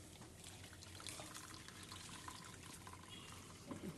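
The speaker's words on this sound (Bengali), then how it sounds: "এবার আমি ভাতটাকে ছেঁকে নিচ্ছি।" Water drains off cooked rice being strained for chicken biryani, a faint, continuous trickling and splashing of liquid with no talking.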